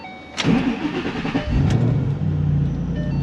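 A 2011 Ford Mustang Shelby GT500 starts up close by: a click, then a brief crank before the engine fires with a burst and settles into a deep, steady idle.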